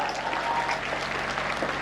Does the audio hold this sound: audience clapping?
yes